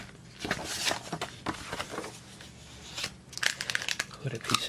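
A single sheet of paper is picked up and handled while setting up a drawing machine: close, crisp crinkles and rustles come in irregular bursts, busiest toward the end.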